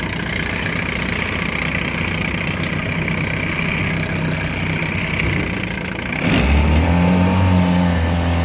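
A 1965 Ted Williams McCulloch 7.5hp low-profile outboard motor runs steadily and loudly up close, its tone shifting as the engine revs change near the end, with no voices.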